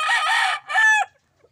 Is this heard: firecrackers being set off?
no